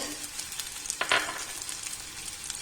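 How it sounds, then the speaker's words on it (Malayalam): Chana dal dropped into hot oil in a pan while making chammanthi, giving a steady close sizzle with a brief louder crackling burst near the middle. "ഈ കൂടെ നമുക്ക് കടലപ്പരിപ്പ് ഇട്ട് കൊടുക്കാമേ ഒരു സ്പൂൺ കടലപ്പരിപ്പ്"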